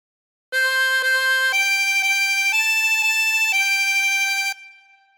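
Twenty-hole tremolo harmonica playing the first phrase of Twinkle Twinkle Little Star, seven sustained wavering reedy notes in steady succession, loud and close, ending with a brief fading tail.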